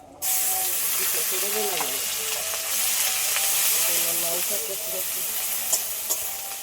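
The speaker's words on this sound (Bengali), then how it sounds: "এই পটল ভাজা তেলের মধ্যে পেঁয়াজ বাটা দিয়ে দেবো" Onion paste sizzles steadily in hot oil alongside fried pointed gourd, a continuous broadband hiss close up with a few soft scraping stirs and small pops near the end.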